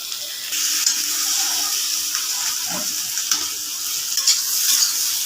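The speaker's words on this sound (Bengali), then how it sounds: "এগুলি ভাজি করতেছি" Pumpkin and spiny gourd bhaji frying and being stirred in a pan, a steady close sizzle throughout with occasional scraping stir sounds on top, with no talk.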